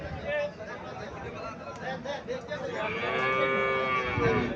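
A Haryana dairy cow gives a long, drawn-out moo close by, with farm background noise and faint voices around it.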